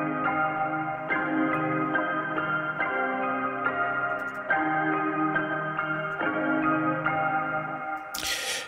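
A UK drill beat melody with an added top layer for variation, built in Ableton Live 10 as a type beat: steady layered synth notes change every second or so, loud and continuous, with a burst of hi-hat-like noise at the end.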